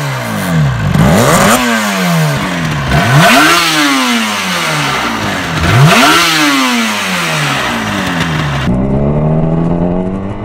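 Yamaha two-stroke motorcycles from the 1980s, RD250/350 and TZR type with the Yamaha Power Valve System, rev hard in repeated loud rising and falling sweeps, about four throttle blips, close up with no talk.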